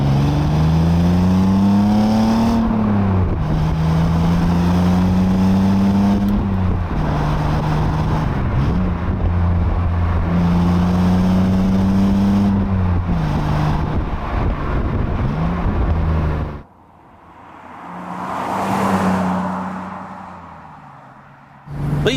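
A BMW Z3 roadster on a quick blast, its engine revving up through several gears in loud, close rising sweeps with brief dips at each shift, then a lull as the engine note fades and returns.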